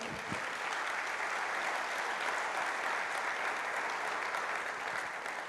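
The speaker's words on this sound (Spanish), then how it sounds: "¿Le puede dar un aplauso al Señor?" A church congregation applauding during a pastor's sermon, a dense, even wash of clapping held steadily throughout at moderate distance, with no speech over it.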